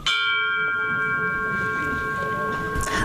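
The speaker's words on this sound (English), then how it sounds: "The bell of the Wharenui tolled at noon as Peter Pirani's coffin was carried out ont" The bell of the Wharenui at Motatau marae in the Bay of Islands rings at a funeral, a single clear ringing tone that lingers and slowly fades over soft background murmur.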